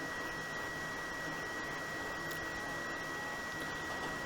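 Hot air blowing steadily onto a drone flight controller board, a continuous close whooshing hiss with a thin constant whine, alone without talk.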